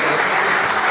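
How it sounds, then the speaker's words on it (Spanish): A church congregation applauds loudly, producing a steady, dense wash of many hands clapping together without a break. "Así que les pido un fuerte aplauso."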